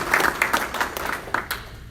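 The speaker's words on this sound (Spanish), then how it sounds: "Por favor, un aplauso para el doctor Iriguíñez." Congregation at a thanksgiving church service claps for a doctor, a close, lively round of hands with distinct sharp claps standing out before it thins and tapers off.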